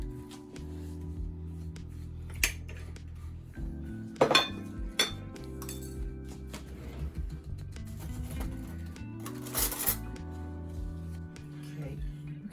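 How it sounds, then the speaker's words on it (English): Eggs are cracked and chess pie ingredients mixed in a bowl, with scattered clinks, taps and scrapes against the dish, a few sharper knocks standing out, under steady talk. "while she's doing that, I'm gonna be cracking our eggs"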